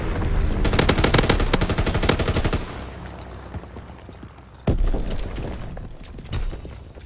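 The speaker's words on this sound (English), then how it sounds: "Fighter pilot inbound, strafing the target." In a World War II game, a fighter plane strafes with a sustained roaring burst of rapid machine-gun fire, then a few scattered heavy thumps and shots follow at lower volume.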